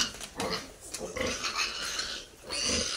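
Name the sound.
14-day-old piglets on a hog farm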